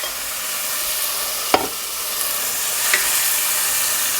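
Chopped tomatoes tipped into a pan of browning onions for a chicken curry, a steady broadband sizzle throughout with a brief sharp clatter near the start and a softer one later.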